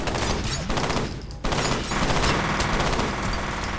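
Enemy gunfire rattles nonstop in the FEAR shooter game, dense automatic bursts and loud close shots layered into a continuous fusillade with a brief dip midway before resuming at full intensity.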